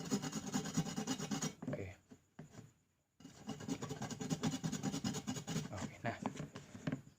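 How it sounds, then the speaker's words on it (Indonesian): Three ingredients grated finely on a hand grater, a steady rapid rasping and rubbing that runs continuously, breaks off briefly near the middle, then resumes at full strength, with a short spoken word near the start. "Parut sampai halus ketiga-tiganya teman."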